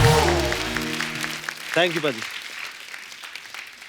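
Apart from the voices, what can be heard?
studio audience applause for a guest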